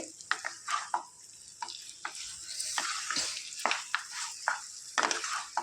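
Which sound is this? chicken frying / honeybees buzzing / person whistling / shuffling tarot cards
chicken frying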